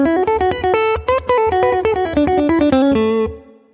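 An electric guitar with distortion, chorus and reverb effects plays a major-sounding blues phrase, a quick run of picked notes and bends, loud and close with no talking, ringing out at the end.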